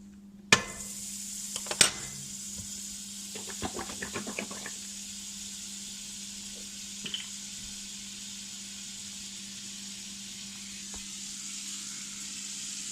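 Butter sizzles softly in a pan on a stove, a faint steady hiss running throughout, with a few louder clinks and utensil knocks near the start.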